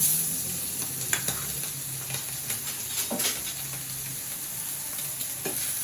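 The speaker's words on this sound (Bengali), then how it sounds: "মনে হয় কড়াইটা গরম হয়ে গেছে একটা মাছ দিয়ে দিচ্ছি" Tangra fish frying in a hot wok, a steady sizzling hiss with a few sharper crackles and spits popping up through it, close and fairly quiet with no one talking.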